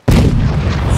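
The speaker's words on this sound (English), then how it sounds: "Oh, wait, is this a cannon I can shoot?" A single loud cannon blast from a pirate video game, a sharp onset followed by a heavy low rumble that sustains through the short clip.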